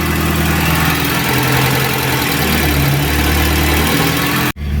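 An Alfa Romeo 33 Boxer 1.5 ie engine with new injectors idles high, a loud, steady, close mechanical hum that holds evenly before cutting out briefly near the end.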